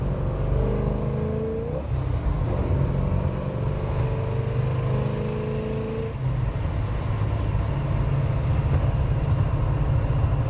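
A 1969 Chevy Chevelle with a five-speed manual cruises in fifth gear around 65–70 mph near 2,000 RPM, its engine a steady low drone with a brief pitch dip near the two-second mark, heard from inside over continuous road noise.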